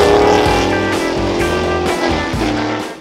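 A Lola Chevrolet race car with an 8.5 litre engine at the Goodwood Festival of Speed roars loudly and close by, its deep engine note rising and falling through gear changes, with crowd noise faint beneath.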